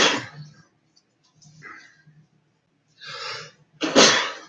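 A person sneezes, a soft inhale building up and then one sharp, loud burst close by, with quiet breathy sounds and faint rustle before it.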